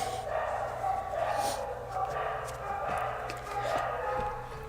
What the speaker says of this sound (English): that's the dog barking